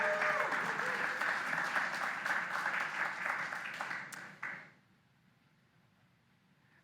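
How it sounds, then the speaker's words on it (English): An audience at a tech awards event applauds to thank sponsors, a dense, moderately loud round of clapping that thins and fades out after about four seconds into near silence. "Please join me in a round of applause to thank these sponsors for their support."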